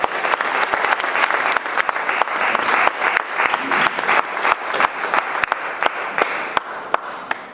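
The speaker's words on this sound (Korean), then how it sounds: "우리 전사님 나오실 때 우리 크게 환영의 박수 해주시면 대단히 감사하겠습니다" A church congregation applauds loudly to welcome the preacher, a dense, sustained burst of many hands clapping in a reverberant hall that carries on evenly throughout.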